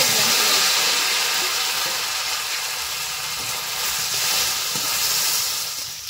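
Taro pieces frying in hot oil in a pan for ritha fish curry, giving a steady, loud, continuous sizzling hiss throughout with no voices.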